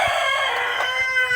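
Broiler chicken on a poultry farm, with a loud, close crowing call and clucks filling a short burst, no voices.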